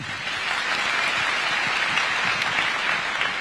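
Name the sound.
audience applause after speech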